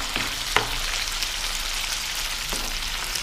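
Bell peppers, including red ones, sizzle steadily in a hot pan as they sauté, a dense continuous frying hiss with a couple of soft clinks from stirring.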